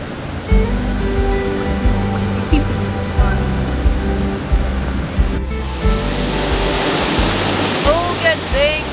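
Steady broadband roar of a waterfall in the wild Dominican rises in the last few seconds, loud and close, after a stretch of rhythmic tonal music.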